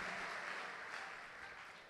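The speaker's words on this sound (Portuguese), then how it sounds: "Vamos aplaudir o Senhor" A church congregation applauds during a sermon, a steady wash of clapping that holds at an even level from start to finish with no voices on top.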